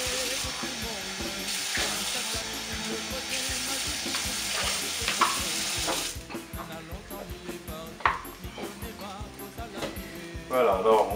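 Rice with spices sizzling loudly in a pot as water is poured in, a bright hiss of frying that settles into bubbling, clattering stirring, with a voice speaking quietly underneath.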